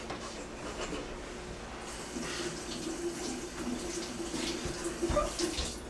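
A kitchen tap runs while produce is washed under it, a faint, steady hiss of water with soft splashing and rubbing, heard alone without talk.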